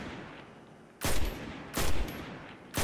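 Three sharp, loud gunshots about a second apart from a weapon fired at emblems in Destiny 2, during the Last Wish raid on the bridge near the Wishing Wall, each a sudden crack over a quiet hiss.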